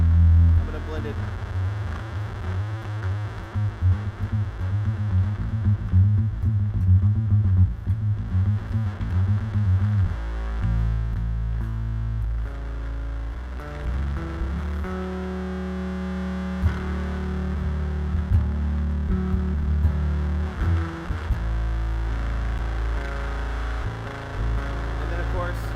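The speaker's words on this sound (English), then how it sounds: "And now this, it's that square wave sound. I'm gonna blend it." A bass played through a distortion preamp, with a square-wave synth tone blended in. It makes a loud, buzzy, sustained low line with shifting notes that plays alone throughout.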